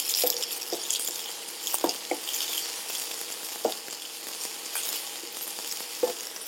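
Onions and tomato fry in a pan with a steady bright sizzle, punctuated by several sharp stirring scrapes and clinks of a spoon against the pan, close and continuous.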